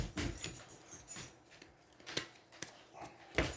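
Pet dogs whimpering and whining for attention indoors, soft intermittent whines and faint patters at close range, with a few brief louder squeaks near the end.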